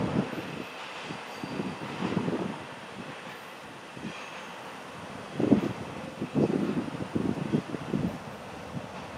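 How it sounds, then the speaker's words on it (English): A train rolls past at Caboose Junction on the FEC line with uneven rumbling and rhythmic clatter that swells and fades, wind buffeting the microphone throughout. "as the hot train passes us by at Caboose Junction"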